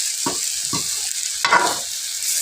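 Jengkol sambal chili paste frying and being stirred in a wok, with a few short scraping strokes and bursts of sizzle over a steady hiss, close and fairly loud.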